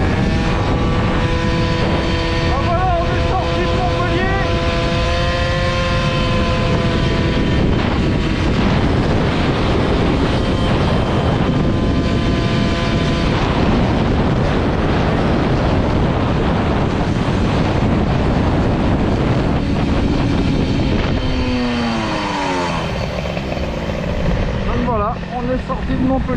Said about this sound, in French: j'ai le vent en pleine face